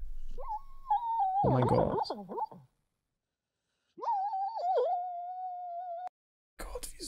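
A cute dog whimpering and whining in long, high, wavering cries, with a short burst of other noise in between; a person exclaims briefly near the end.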